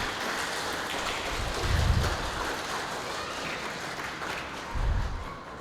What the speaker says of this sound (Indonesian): Untuk itu saya mohon tepuk tangannya semuanya.